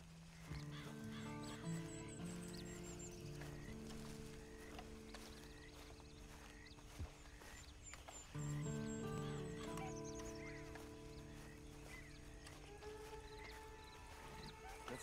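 A horse in Red Dead Redemption 2, heard as a whinny and snorts with hoof clip-clops and ambient animal calls against the game's background.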